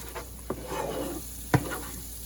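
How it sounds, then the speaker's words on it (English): Spices sizzling in butter in a pan for chicken biryani, a soft steady fry with a couple of sharp clinks of stirring against the pot. "I'm going to let those spices fry for a minute"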